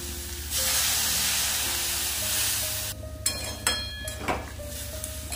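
Spices fry with flat beans in a pan, giving a loud, steady sizzle that drops away partway through into scattered stirring scrapes and softer crackling.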